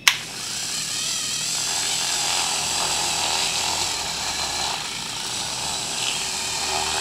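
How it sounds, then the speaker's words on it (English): A Dremel rotary tool drills into a figure's cast, starting with a sharp click and then a continuous high-pitched whirring grind that holds steady at moderate loudness. "what I do is I just take the Dremel and drill inside"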